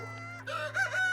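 A rooster crows in the medieval farming game Medieval Dynasty, a single drawn-out cock-a-doodle-doo rising over a steady low hum, fairly close and clear with no talking.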